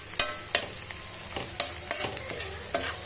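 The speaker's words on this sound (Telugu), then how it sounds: "కొంచెం కరివేపాకు వేసేసి కలిపేస్తామండి" A spoon stirs sizzling fried onions with turmeric and curry leaves in a pan, producing a series of sharp scraping strokes at an uneven rhythm over a soft, steady frying hiss.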